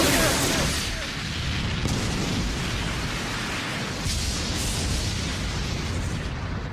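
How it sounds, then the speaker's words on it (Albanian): A cartoon Beyblade special move unleashes a big explosion effect, a loud sustained roaring blast with crackling bursts that fills the whole stretch without dialogue. "Lëvizje veçantë. Flakët bomb të shpërthimit të ferrit."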